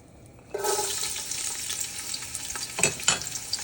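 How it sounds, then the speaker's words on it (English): Garlic hits hot oil in a pot and bursts into a loud, bright sizzle that keeps going steadily, with a few stirring clatters near the end. "I put some oil in there in the pot. So I'm just gonna fry my garlic first."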